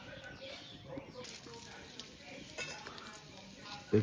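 Whole spices and bay leaves sizzle in hot oil for village-style mutton curry cooked over a wood-fired stove, a steady close crackle with light stirring scrapes and a voice talking over it.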